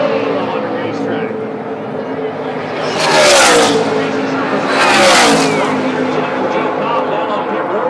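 NASCAR Camping World Series trucks race at Las Vegas Motor Speedway, their engines droning under an announcer's commentary as two loud roaring pass-bys sweep close in succession.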